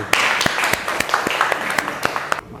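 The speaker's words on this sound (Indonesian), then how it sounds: "Kita kasih aplaus yang meriah untuk kelompok 1" Applause from a classroom audience for a group presentation, dense rapid clapping from many hands, fairly close and loud, cutting off abruptly at the end.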